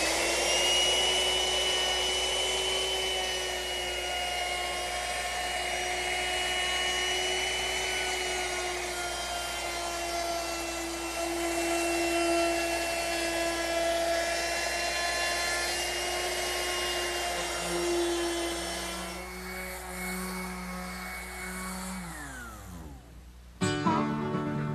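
A power router rounds over the wooden edges of rocking horse side pieces, a steady high-pitched whine with a grinding cutting edge, holding for about twenty seconds before the motor winds down with a falling pitch and a final clunk.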